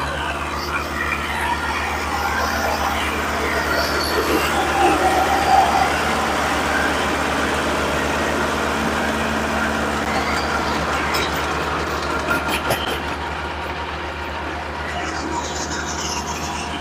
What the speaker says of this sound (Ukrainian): Ось так працює. Наша фреза.